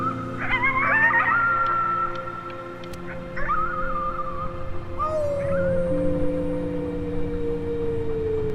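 Howling at the moon in the video game Before Your Eyes: several drawn-out, wavering canine-like howls, rising then sliding down, heard clearly over a soft background music drone.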